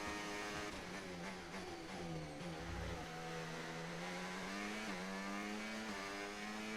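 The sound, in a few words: F1 race car engine in video game F1 25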